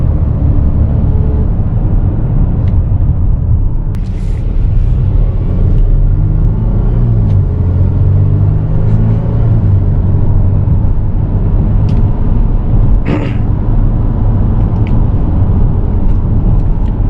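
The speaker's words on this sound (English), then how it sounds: "going uphill here, downshifting, giving it a little bit and taking this corner" A 2022 Volvo XC90 T6 Momentum engine accelerates while downshifting uphill into a corner. A loud, steady cabin rumble runs the whole way with no talking.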